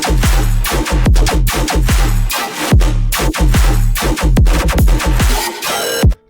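A heavy dubstep drop built from a single processed bass sample: loud, dense, distorted bass hits pulse in a steady rhythm, with growling wobbles and sweeps that continue until the sound cuts off abruptly at the end.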